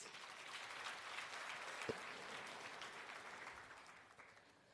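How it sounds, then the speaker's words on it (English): An awards-ceremony audience applauds steadily throughout, a dense, even patter of clapping heard at moderate distance with no talking over it. "you need to give yourselves a round of applause"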